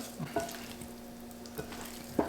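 Chicken pieces are mixed by hand with a garlic and ginger marinade for Indo-Chinese chicken lollipops. A few soft, wet squelches break through a steady low hum, the last one the loudest.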